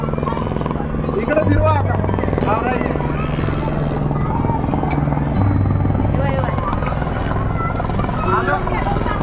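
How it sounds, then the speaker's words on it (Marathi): A landing helicopter's loud thumping rotor and engine drone dominate at a political campaign rally, with a crowd of voices chattering underneath. "हेलिकॉप्टर त्यांचं बघू शकता मित्रांनो आता लँड व्हायला आहे"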